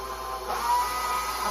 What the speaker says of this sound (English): I grind pork loin, and so I have the little attachment on the mixer